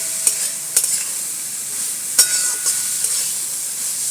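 Grated carrot fries in ghee for carrot laddus, with a constant crisp hiss of sizzling and several clicking spatula stirs against the pan, near and fairly loud.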